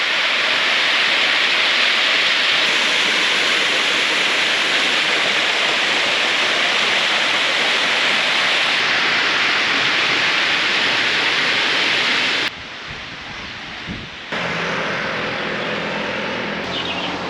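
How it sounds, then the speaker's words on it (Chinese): The lowest tier of the Xiaoyin Pond waterfall in Yangmingshan makes a loud, continuous broadband roar of falling water that holds steady, then drops abruptly and turns thinner near the end. "这是小隐潭瀑布的最下层。"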